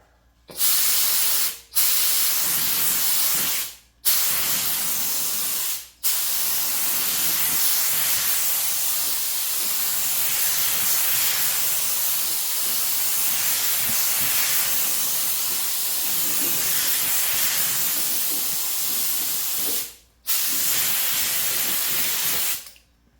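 An airbrush or spray gun lays Ghost Gold paint over a Desert Tan base coat, producing a loud, steady close-up hiss in long bursts broken by a few brief pauses.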